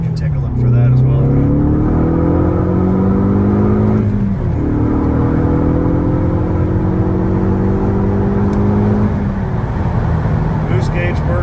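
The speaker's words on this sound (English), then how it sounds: "just a kind of normal cruising freeway segment of me driving it without Tom" A 2013 Ford Focus ST3 cruises on the freeway, its engine note rising in long steady sweeps through gears with road and wind noise beneath, while someone talks over it.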